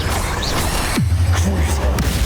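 Spell explosions from Confringo and Bombarda in Hogwarts Legacy, heard as a loud boom with a falling swoosh over constant noisy game action. Other blasts follow in the din.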